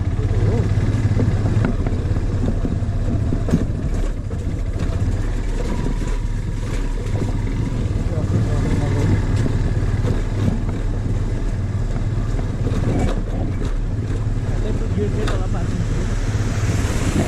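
A motorcycle engine runs steadily on a mountain road trip from Kathmandu via Dhunche toward Deurali and Gosaikunda in Nepal, giving a constant droning hum while people talk over it.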